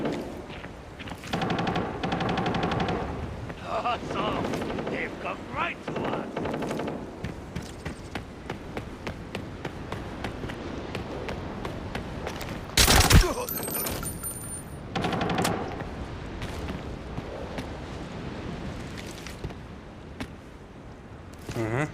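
Machine gun fire in the video game Arena Breakout comes in scattered bursts over a sandstorm battle, mostly at mid-distance, with one sharp, loud burst about midway through.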